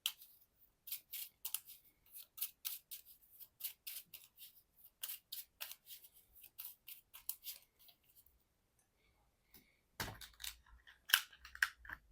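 Cards from a Marvel Champions game, Nick Fury and Agent Coulson among them, are shuffled back into a deck in quick bursts of crisp riffling, close and dry with brief pauses, ending with louder scraping handling noise.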